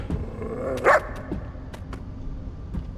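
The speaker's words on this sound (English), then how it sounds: "It's just an ordinary dog." A dog in the video game The First Descendant gives a single sharp bark amid faint background ambience, followed by a few soft clicks and quieter noises, with no speech.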